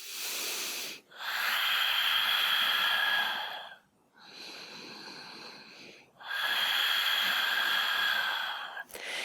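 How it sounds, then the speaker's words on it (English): Ujjayi yoga breathing, loud and close, sounds like a long hissing, slightly rasping breath repeated in three extended cycles with brief pauses between them. "Ujjayi breathing, you can hear it."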